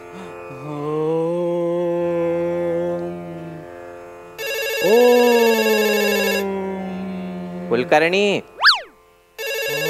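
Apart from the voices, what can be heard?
mobile phone ringing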